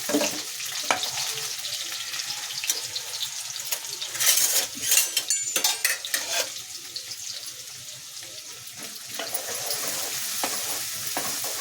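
Onions frying in oil for egg sambar, a steady close sizzle with a louder burst of crackling and scraping as they are stirred partway through.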